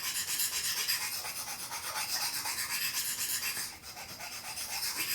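A knife blade is drawn across a diamond sharpener in rhythmic rasping strokes, a steady close scratchy rubbing that briefly dips mid-way before continuing.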